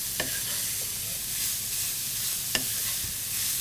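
Two large carrots sautéing in olive oil, a steady close sizzle with a few sharp stirring clicks, no talking.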